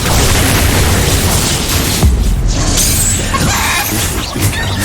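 In Hogwarts Legacy, a Confringo fire spell explodes amid combat. A loud, continuous roar of blasts and shattering crashes carries a heavy low-end boom near the middle.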